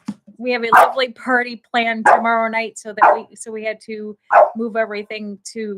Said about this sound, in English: as you can hear her barking around